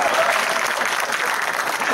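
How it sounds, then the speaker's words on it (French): A crowd at the Geek Faeriës 2012 festival bursts into dense, loud, continuous clapping that stays steady for the full two seconds, with no speech breaking through. "applaudissements pour lui"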